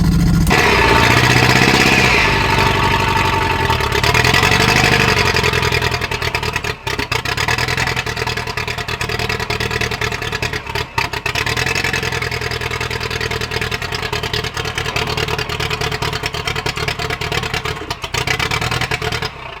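A car that has sat unstarted for a month, with no vacuum lines attached, runs rough on only three cylinders, a loud, uneven engine drone with faint revving throughout and brief dips.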